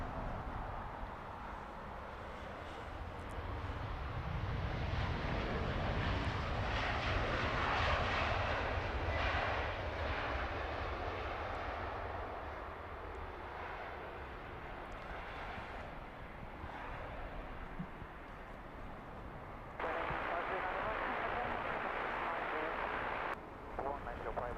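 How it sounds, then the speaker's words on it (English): A British Airways Airbus A320-200 arriving at Heathrow from Warsaw gives a broad, sustained jet engine roar that swells and slowly fades, heard from a distance while people talk throughout. "This is British Airways flight 851, inbound from Warsaw on an A320-200."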